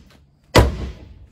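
A single solid thunk as the heavy door of a 1974 Chevy Camaro Z/28 swings shut, close and sharp, with a short fading rattle after a faint click before it.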